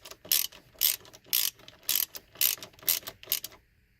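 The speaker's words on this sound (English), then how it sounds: "So now we tighten them up. Again, these are Torx bolts." A ratchet wrench tightens Torx bolts during a horn repair on a 1999 Toyota Sienna, giving about eight loud, evenly spaced rasping clicks in quick rhythm, then quiet.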